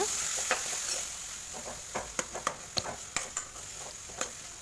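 Chopped tomatoes fry in a pan for a vegetable side dish, with a soft steady sizzle behind sharp intermittent scrapes and clinks of a spoon stirring against the pan.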